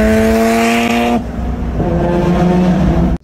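A Mazda RX-7 FD sports car engine revving hard and close, a loud buzzing tone that climbs and holds, cuts briefly, then rises again before stopping abruptly.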